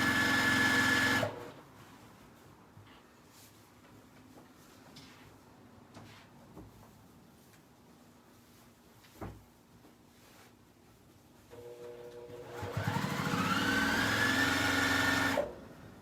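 A sewing machine stitches a seam close to the edge of a diaper bag in two loud, steady whirring bursts at the start and end, with quieter handling noises and rustling between them.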